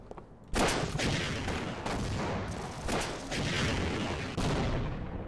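Gunfire in Half-Life Sven Co-op crackles in heavy overlapping bursts, booming shots and rapid fire filling the whole stretch, loud and dense with recurring sharp onsets.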